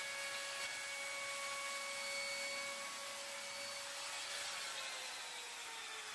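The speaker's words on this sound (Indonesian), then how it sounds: "Bentuk semacam bevel pada tiap sudut kayu menggunakan mesin trimmer" Trimmer router running steadily, cutting bevels along the edges of meranti wood for a minimalist chair, a loud continuous high whine with grinding texture throughout, no talk.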